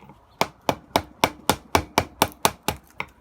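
A wooden mallet gives light, even taps on a chisel carving wood for a feast tray, about ten crisp knocks in a steady rhythm, close and clear with no talking.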